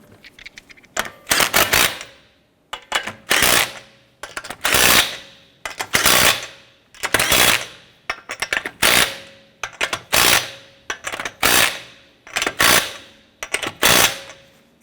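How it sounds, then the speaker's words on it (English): An impact wrench snugs down the lug nuts on a 2012-2017 Toyota Camry wheel in a string of about ten loud, close rattling bursts, each roughly a second long and separated by short pauses. "Once we get all of our lug nuts installed, I'm going to go ahead and snug those down."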